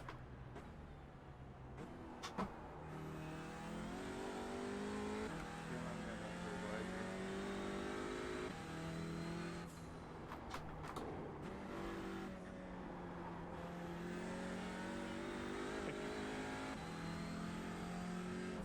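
Race car engines in the iRacing sim, a steady engine drone with rising and falling revs as gears shift, cars passing close by, and a few sharp clicks.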